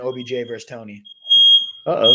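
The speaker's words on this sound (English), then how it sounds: "That's our fire alarm." A household smoke alarm gives a steady high electronic tone that starts after someone speaks, pauses while another voice talks, and resumes loud over speech at the end.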